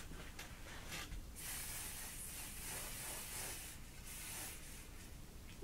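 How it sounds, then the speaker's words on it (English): Garnier Fructis Style Flexible Control Anti-Humidity Hairspray is misted onto hair in soft, fairly quiet hissing sprays, one longer burst followed by a shorter one. "I'm going to take my hairspray."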